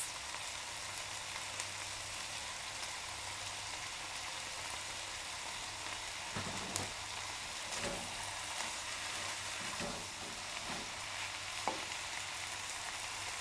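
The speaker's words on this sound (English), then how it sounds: "Add in the chopped green onion and give it another mix." Yakisoba noodles with chopped green onion are stir-fried in a pan, a steady broad sizzle running throughout with a few faint utensil scrapes and taps toward the end.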